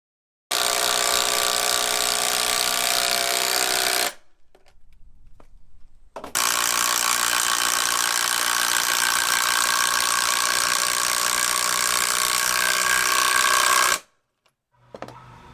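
Screws are driven into hundred-year-old redwood hardwood timber: two long runs of steady, loud whirring from a close powered driver, separated by a short pause with faint handling noise.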